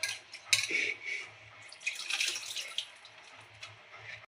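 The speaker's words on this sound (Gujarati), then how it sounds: "પેલા આપણે ભાત ધોઈ લઈશું" Rice being washed by hand in water in a home kitchen, with a soft, steady swishing and trickling of water and a few brief splashes, close by and fairly quiet, with no talking.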